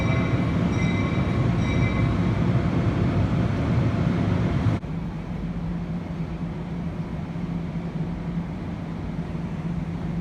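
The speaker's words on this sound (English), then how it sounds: "this is a New Jersey Transit train" A steady, loud rumble of a New Jersey Transit commuter train at an underground platform in Penn Station, New York City, with a faint whine early on before the noise drops to a lower drone.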